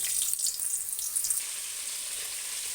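Pointed gourd pieces frying in hot oil, giving a bright, continuous sizzle with crackling pops, louder and busier in the first second and a half, then settling into a steady hiss.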